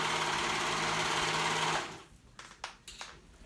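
Sewing machine stitching woven fabric for a peasant dress, a loud steady whirring run that stops after about two seconds, followed by a few quiet handling clicks.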